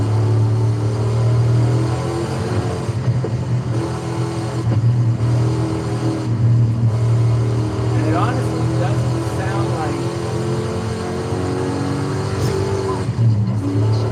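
A supercharged V8 car drives in Forza Horizon 5, its engine a continuous loud droning hum with rising and falling revs, heard under someone talking.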